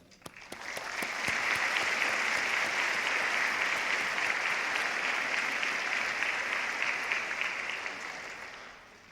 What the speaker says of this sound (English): you may now applaud yourselves for a job well done